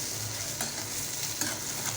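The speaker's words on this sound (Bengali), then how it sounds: "এই যে পেঁয়াজটা ভাজা হোক," Onion frying in oil in a pan for fish curry, a constant loud sizzle with a low bubbling hum and a few brief stirring scrapes.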